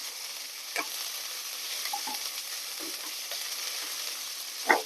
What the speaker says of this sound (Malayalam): നമ്മുടെ ചീര വാടി തുടങ്ങിയിട്ടുണ്ട് ഒന്നും കൂടെ നമുക്ക് വാട്ടാം